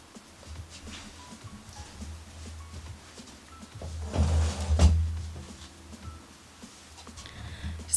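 Bronzer and blush makeup storage drawers slide open with a scraping rumble and a soft thump, close by in a quiet room, with faint handling sounds before and after.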